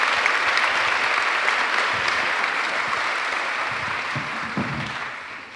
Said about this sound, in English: please give a round of applause to all of our volunteers here with us for telling us the story